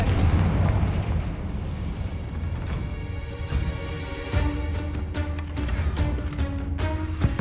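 Spell explosions from the Confringo fire curse in the video game Hogwarts Legacy: loud, continuous booming blasts and bursts that layer over a dense wash of combat noise with no break.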